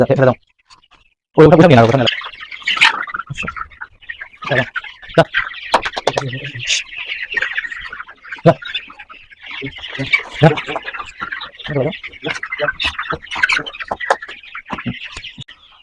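Chickens clucking and squawking in a poultry house before fowl pox vaccination, heard as loud, close, repeated calls, with a person talking in between.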